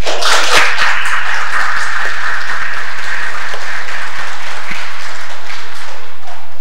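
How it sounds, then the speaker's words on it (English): A large church congregation applauds loudly and continuously, a dense wash of clapping filling the room throughout. "Linda Reese should have a great applause for putting everything together and having this Bible school to be done."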